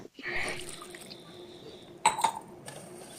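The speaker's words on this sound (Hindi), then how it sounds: "हाफ गिलास पानी डालूंगी" Water is poured into a pressure cooker holding bathua greens in a home kitchen, a soft brief splash followed by a faint clink of a vessel, quiet and close.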